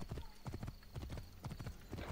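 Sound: horse hooves clip-clop in Assassin's Creed Origins video game

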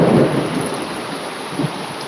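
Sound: heavy rain with thunder

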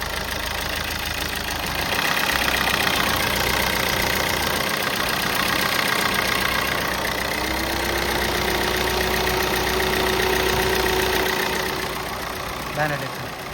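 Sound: Maruti Suzuki Ertiga VDi diesel engine idling after start

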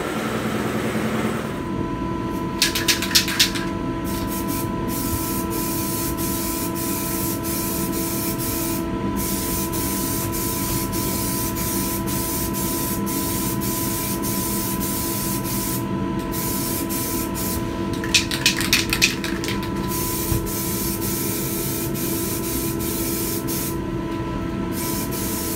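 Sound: spraying primer onto an F150 dash

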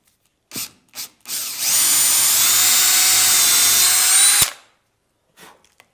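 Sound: drilling into wood

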